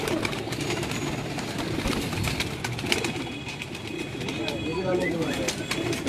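Pigeons coo at a pigeon club loft in Dera Ghazi Khan, a low continuous murmur of cooing under steady background noise, with people talking nearby.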